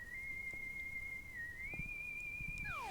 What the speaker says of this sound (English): Oh, that's a familiar whistle.